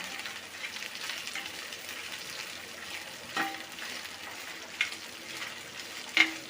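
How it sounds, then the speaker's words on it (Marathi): Dried bombil fish frying in oil for chutney, a soft, steady sizzle running throughout, with a few brief clatters of stirring near the end. "आता मम्मी याला तेलामध्ये फ्राय करून घेते"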